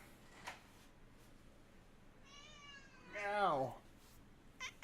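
A cat gives a drawn-out, wavering meow, preceded by a higher chirpy call and a few soft clicks in a quiet room.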